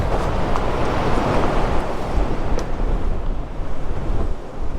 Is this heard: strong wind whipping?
yes